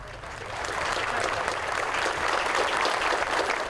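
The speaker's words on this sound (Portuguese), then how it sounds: "Na chegada do corpo do advogado ao velório" Sustained applause from mourners greeting the arrival of a lawyer's body at his wake in Manaus, a dense, steady patter of many hands clapping at moderate volume without a break.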